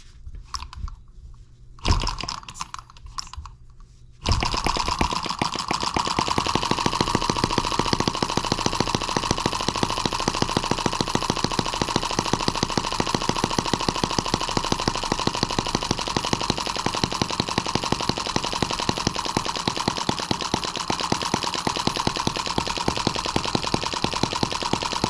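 After a few brief sputters, a Chinese M17B engine catches and runs hard, a loud, fast, rattling clatter that holds steady and close throughout.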